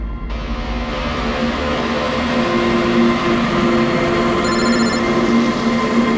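A landline telephone rings on and off beneath a dense, steady hum of background noise, a fairly loud electronic tone with no voices.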